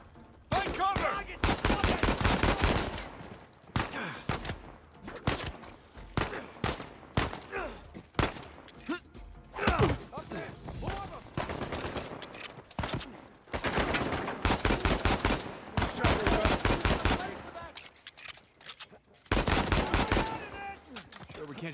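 Sniper and automatic gunfire in Uncharted 4 rings out in repeated loud bursts of dense shots, broken by short pauses, with a voice briefly heard among the volleys.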